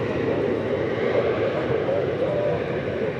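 Airplane at DFW Airport, a steady broadband roar of jet engines, distant but continuous and moderately loud.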